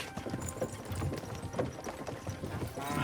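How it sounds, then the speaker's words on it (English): Horse hooves clip-clop at a steady walking pace in Kingdom Come Deliverance 2, several horses plodding together over ground with a faint whinny, moderately close and continuous with no talk. "don't you think maybe we could make the horses go a little faster?"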